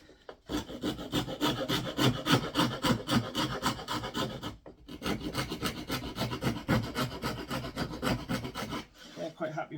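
Handsaw cutting through wood for a swift nest box, a steady close rasping stroke rhythm running for several seconds, pausing briefly midway, then resuming before stopping near the end.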